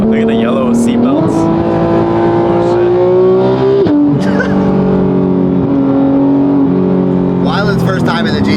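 A GT3 sports car engine drones steadily from inside the cabin, rising in pitch through the gears with a brief shift dip and a later rev climb. It is loud and continuous, with no speech.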